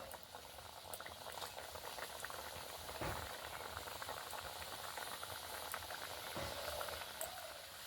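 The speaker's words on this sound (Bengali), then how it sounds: "কন্টিনিউ এইভাবে নেড়ে চেড়ে ভেজে নিতে হবে" Stuffed wheat-flour snacks frying in medium-hot oil give a steady, dense bubbling sizzle with occasional soft clinks, continuous and fairly close throughout.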